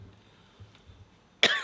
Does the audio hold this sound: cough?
yes